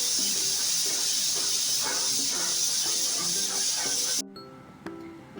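A pressure cooker of soybean rice over a medium-to-high flame lets out a loud, steady steam hiss that cuts off sharply near the end, leaving faint background noise.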